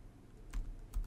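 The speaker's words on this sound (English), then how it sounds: "I will type in Ansible -playbook, and I'll type in Apache.yaml" Quick keystrokes on a computer keyboard entering an Ansible playbook command, a few close, distinct taps in a quiet room.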